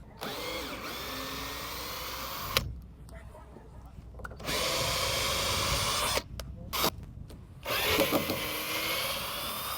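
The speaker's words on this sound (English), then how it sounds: "always bring a fully charged drill. You don't want to unscrew the whole box by hand" A cordless drill whirs loudly in repeated bursts, stopping and starting as it backs out screws from a shipping crate, with voices faintly in the background.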